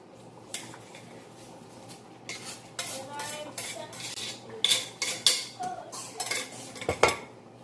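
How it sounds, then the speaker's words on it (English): Cooked meat and chopped carrots and potatoes being added to a pot of farmhouse beef stew, close metallic clinks and scrapes of a spoon against the pot in irregular bursts over a low steady hum. "So now I'm going to go ahead and add the cooked meat and other vegetables to it."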